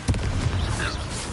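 A Confringo explosive spell in the Hogwarts Legacy video game goes off as a quick, punchy blast with a crackling, gunfire-like tail, loud and close for just over a second.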